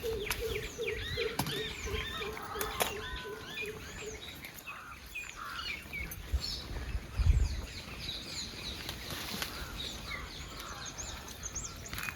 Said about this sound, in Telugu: సౌండ్లు చూసారా బర్డ్స్?